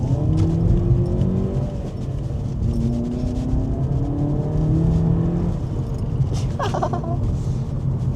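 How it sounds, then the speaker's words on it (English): A VW Polo GTI accelerates hard from a wheel spin on a UK country road, its engine note climbing through rising revs with steady road rumble, heard from inside the car. "Wheel spin."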